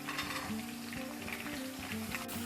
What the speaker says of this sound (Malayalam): ആ വെളുത്തുള്ളി ഇട്ട് കൊടുക്കുക